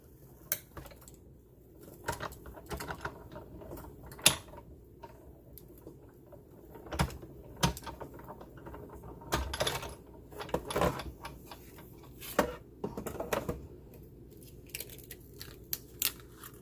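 A Sizzix die-cutting machine runs card through its rollers, giving irregular clicks, crunches and cranking taps spread across the stretch, fairly close and with no talking.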